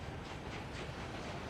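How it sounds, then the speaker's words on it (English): A construction train rolls steadily along the rails in the city-building game Workers & Resources: Soviet Republic, giving a continuous rumbling clatter with a faint hiss, moderately near and unbroken throughout. "Oh, it's the construction train coming back."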